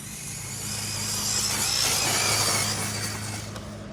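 A Big Block Mojave off-road truck drives off-road, its engine drone and buzzing whine swelling to a peak mid-pass and easing off, with no voices.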